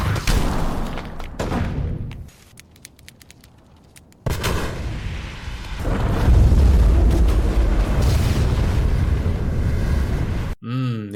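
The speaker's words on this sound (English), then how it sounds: "The hospital explosion from The Dark Knight." The hospital explosion scene from The Dark Knight plays as loud, sustained rumbling booms and crashing debris. There is a brief quieter gap with crackling, then the roar builds to a deep, heavy swell.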